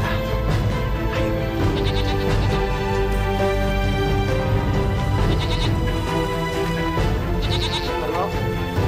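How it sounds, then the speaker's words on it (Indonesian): Several goats bleat in short, wavering cries that recur through the stretch over continuous music, with people talking at times in between. "Sekarang kita gembalakan kambing dulu ya."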